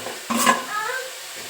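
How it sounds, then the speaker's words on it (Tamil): Chili powder stirred into sautéed shallots and garlic in a pan for a turkey berry kulambu: one short scraping stir with a light clatter, then a faint, low sizzle close by. "வத்தப்பொடி நல்லா வதக்கணும்."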